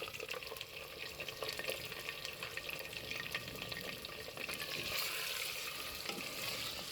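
Beef pieces frying in ghee with browned onions for Chinyoti kunna, a steady close sizzle with scraping stirs throughout, no talking.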